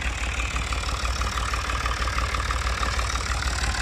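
A Fiat 480 tractor hitched to a cultivator idles in a muddy field, its engine a steady, close, rumbling chug with an even knocking rhythm and no talk over it.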